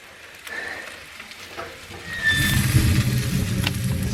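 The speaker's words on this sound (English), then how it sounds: "getting some potatoes cooked up on our wood burning stove we put in" Potatoes sizzle and fry in a pan on a wood burning stove at a hunting camp, the crackling spitting louder halfway through as they settle in, close and steady with occasional scraping.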